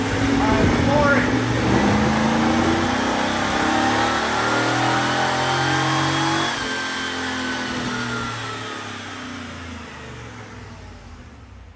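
Stock 1995 Chevrolet Camaro Z28 engine revving hard on a dyno in second gear, a loud sustained rising roar with climbing harmonics that eases off and fades toward the end.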